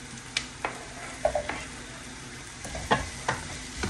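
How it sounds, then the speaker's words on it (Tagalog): Ginger, onion and garlic sauté in a hot pan for a duck curry, with a constant close sizzle broken by repeated scraping stirs of a utensil. "Gisa lang natin to hanggang sa mag-caramelize yung ating onion."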